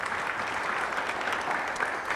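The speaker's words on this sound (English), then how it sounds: "So, quick round of applause for Shannon Smith." A short burst of steady audience applause at an economic outlook panel event, many hands clapping together at moderate volume with no talk over it.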